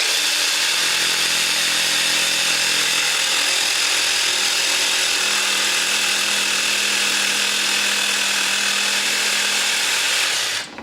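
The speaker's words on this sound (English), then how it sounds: "So I'm going to finish this notch up. I'm just going to use a jigsaw." A jigsaw, held upside down, cuts a notch in a wooden entry table part, giving a steady, loud, continuous buzzing whine that runs without a break for about ten seconds and then stops abruptly.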